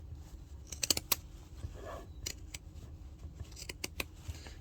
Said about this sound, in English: from here you can take some pinking shears or your scissors